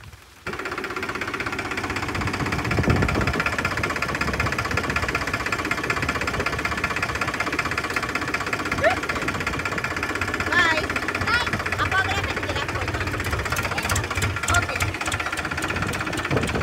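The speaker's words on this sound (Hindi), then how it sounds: "ओम को जाना है ट्रैक्टर में बैठने के लिए ना।" A tractor engine runs in a farm field, a steady mid-pitched rumble with a knocking, idling quality that holds throughout, loud and close, with people talking over it.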